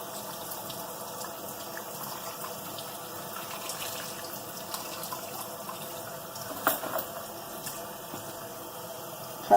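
Tap water runs steadily over raw pork chops in a kitchen sink, a soft continuous splashing with small bumps of handling.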